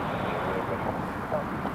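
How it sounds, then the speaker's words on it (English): An EasyJet airliner taxis at Newcastle Airport, its jet engine a steady, distant broadband roar beneath someone talking. "EasyJet just making its way down to Delta"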